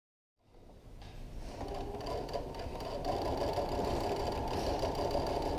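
A sewing machine back-stitching a fabric dust cover for a Cricut Maker: a steady, close mechanical whir that starts up and runs continuously.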